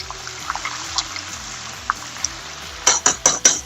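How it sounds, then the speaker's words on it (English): Chicken pieces without batter fry in very hot oil in a pot over medium heat, giving a steady low bubbling sizzle with a few louder spattering pops near the end. "All the pieces are covered in oil. Now we're just gonna let it fry."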